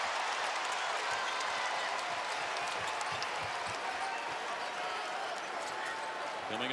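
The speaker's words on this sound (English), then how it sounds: "Here comes the crowd." A loud basketball arena crowd roars and cheers continuously during a 2019-20 ACC men's college game between Virginia Tech and Louisville, a dense sustained wash of noise with scattered claps and shouts.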